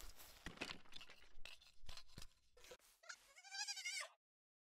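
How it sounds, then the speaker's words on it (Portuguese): Sheep bleat in the video game Palworld, with a clear wavering bleat standing alone near the end after a run of scattered clicks and thuds from gameplay. "Mais umas ovelhas aqui"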